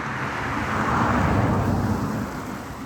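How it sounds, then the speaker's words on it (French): A truck speeding past on a road: a broad rushing roar swells to a peak midway and then eases off as it goes by, fairly loud and close. "Vous avez vu le camion à la vitesse où il va?"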